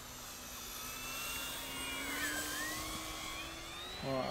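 An FMS P-47 Razorback RC model warplane flies aerobatics, rolling inverted and flicking out, its motor giving a steady, sustained whine at moderate distance that shifts slightly in pitch as it passes.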